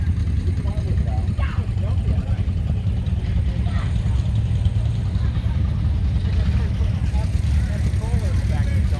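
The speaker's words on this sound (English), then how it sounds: "All right, there's your engine." An antique tractor engine runs steadily at an outdoor show of old Farmall, Oliver, Earthmaster and Hart-Parr machines, a constant low rumble beneath people talking nearby.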